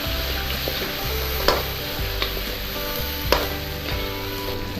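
Crab sautéing in a pan, a steady close sizzle broken by a few sharp clacks and scrapes as the pieces are stirred around, with no talking.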